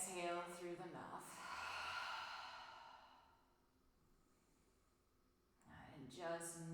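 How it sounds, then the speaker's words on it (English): A slow, audible exhale through the mouth during a relaxing yoga flow, a soft breathy rush lasting a couple of seconds and fading, surrounded by calm spoken instruction. "Taking a deep breath in through the nose. And exhale through the mouth."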